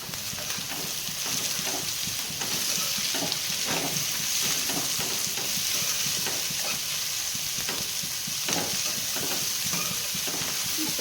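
Onions frying in a pan, stirred steadily: continuous close, loud sizzle with repeated scraping strokes of the stirring, no talk.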